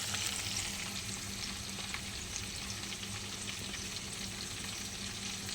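Radhuni seeds temper in hot oil, a steady, dense crackling sizzle with fine spitting pops, continuous and close, no voices over it.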